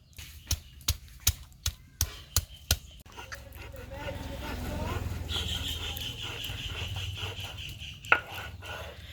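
Pointed gourd and chili are ground into a paste by hand, starting with a row of sharp, evenly spaced taps and moving into a continuous low rubbing grind, close and fairly quiet.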